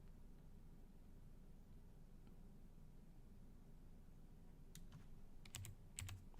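Computer keyboard keys tapped in a few short bursts near the end, faint and close, following a stretch of quiet room hum.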